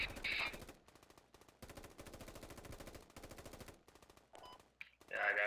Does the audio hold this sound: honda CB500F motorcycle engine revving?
no